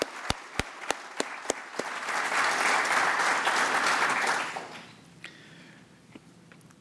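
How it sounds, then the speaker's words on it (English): A few sharp claps start off, then an audience breaks into steady applause that swells, holds for a few seconds, and fades to scattered claps. "If I might ask you to indulge me in another round of applause for Karen."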